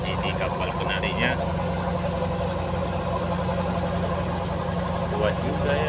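A small tugboat's engine drones steadily while it tows a coal barge, the low rumble holding near and even throughout, with people talking over it.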